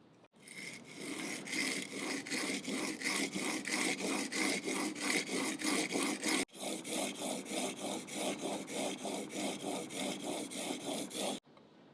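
A steel blade is sharpened on sandpaper over a flat plate while held in a honing guide. Rhythmic back-and-forth scraping strokes repeat steadily and close, with one brief pause midway and no talk.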